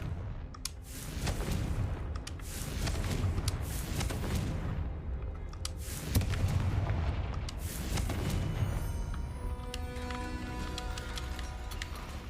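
Fiery Confringo blasting spell from the Hogwarts Legacy video game, a series of loud booming explosions rolling over dense game sound for most of the stretch, easing into quieter rumbling near the end.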